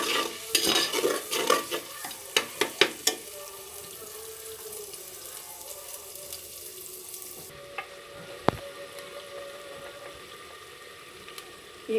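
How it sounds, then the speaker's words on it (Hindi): Onions frying and browning in a pan while being stirred, with close scraping stir strokes at first, then a steady sizzle that carries on alone. "हल्का सा इसको ब्राउन कर लेंगे।"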